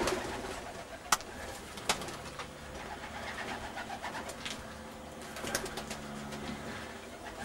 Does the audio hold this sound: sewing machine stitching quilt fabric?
no